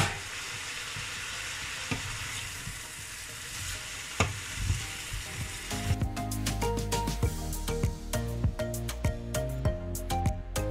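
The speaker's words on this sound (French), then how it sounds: "la friture de nos poulets sont terminées" Chicken frying in a pan of hot oil gives a steady, close sizzle that swells louder toward the end, with bursts of crackling and spatter.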